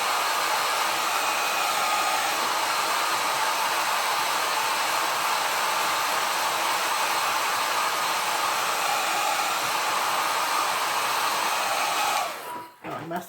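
Hair dryer blowing steadily to dry watercolor paint on a bookmark, a loud, close, continuous whoosh for about twelve seconds before switching off.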